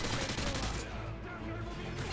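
Gunfire in Call of Duty Modern Warfare 2 Spec Ops, with loud, dense bursts of automatic shooting crackling continuously close by, keeping up through the short stretch.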